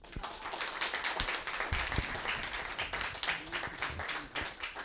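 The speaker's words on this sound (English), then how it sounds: "with a big round of applause" A luncheon crowd applauds steadily, a dense patter of many hands clapping throughout, heard from some distance at moderate volume.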